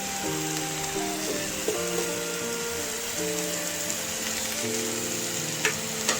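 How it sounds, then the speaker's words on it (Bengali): A spoon stirs gourd greens mixed with cumin, turmeric and coriander powder in a sizzling pan: constant close frying hiss with occasional scraping knocks, over faint sustained tonal sounds in the background. "এবার চামচ এটাকে ভালোভাবে মিশিয়ে নেবো"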